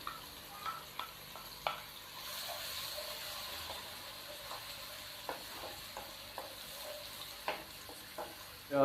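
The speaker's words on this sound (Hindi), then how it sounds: "अब मैं इसके अंदर एक अदद चॉप की हुई प्याज ये शामिल करते हैं।" Chopped onion fries in hot oil, giving a steady soft sizzle and hiss. Occasional light taps of a spoon stirring in the pan come through, fairly quiet and close.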